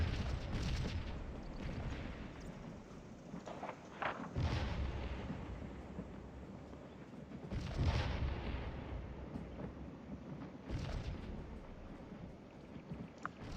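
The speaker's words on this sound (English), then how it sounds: "We're getting a little artillery duel here." Artillery cannon fire in the black-powder battle game Scourge of War, several deep booming shots spaced seconds apart over a continuous rumbling battlefield wash, distant rather than close.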